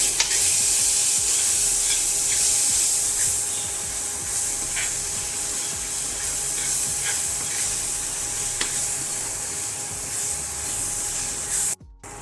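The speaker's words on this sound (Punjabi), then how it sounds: "ਹੁਣ ਮਸਾਲੇ ਦੇ ਵਿੱਚ ਆਪਾਂ ਮੇਥੀ ਪਾ ਦੇਵਾਂਗੇ ਮਿਕਸ ਕਰ ਦੇਵਾਂਗੇ" Fenugreek stirred into a frying masala for dhaba-style rajma, with a steady close sizzle of oil under repeated scraping strokes of a spoon in the pan.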